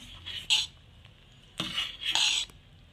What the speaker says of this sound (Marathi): हे शेंगदाण्याचं कूट मस्त असं मिक्स करून घ्यायचं आहे